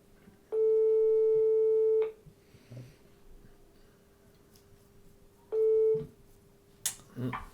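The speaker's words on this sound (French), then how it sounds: "La troisième sonnerie." Two electronic telephone ring tones, one long and one shorter, sounding through a speaker with quiet room noise and a brief voice between.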